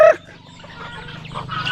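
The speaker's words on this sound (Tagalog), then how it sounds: "Eh mga manok dito sa Dasari" Chickens clucking and calling on a farm, a short sharp squawk at the start followed by low, scattered clucks and murmurs from several birds nearby.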